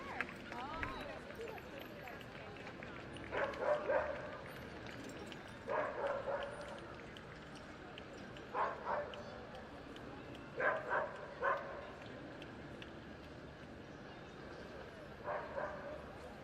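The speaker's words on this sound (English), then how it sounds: "we have this cutest little dog who just wants to get involved with everybody going by" A small dog barks in short bursts at a Veterans Day parade in San Jose, repeated yips spaced every couple of seconds, fairly distant amid quiet street ambience.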